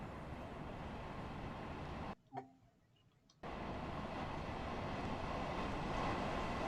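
Long Island Rail Road train in the Train Sim World game: a steady, loud rail rumble that cuts out abruptly for about a second, then resumes at full strength.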